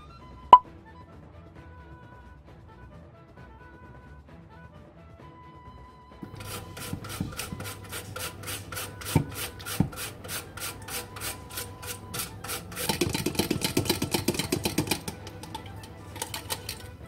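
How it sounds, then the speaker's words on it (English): Half an organic orange is zested on a grater: a near-silent start with one sharp plop, then a run of rhythmic rasping strokes that speed up into a denser burst before easing off. "You'll need the zest of half an orange, organic,"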